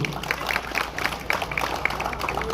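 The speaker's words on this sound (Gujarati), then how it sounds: "એકવાર એમનો જોરદાર તાળીઓથી આપણે સ્વાગત કરશું" A crowd at a political gathering in Dadra Nagar Haveli and Daman gives a steady, dense round of clapping to welcome the regional party in-charge. The applause is fairly loud and continuous, with no voices over it.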